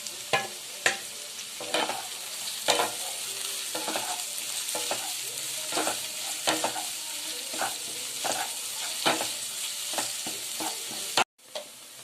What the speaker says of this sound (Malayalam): എന്നിട്ട് നമുക്ക് ഇതിന്റെ കൂടി ഇട്ട് നന്നായിട്ടൊന്ന് വഴറ്റിയെടുക്കാം